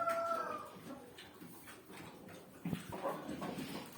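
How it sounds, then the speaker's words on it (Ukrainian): Chickens cluck and murmur in short bursts nearby in a Ukrainian village farmyard, with a louder squawk near the end over a quiet background. "Кури намагаються вкрасти щось"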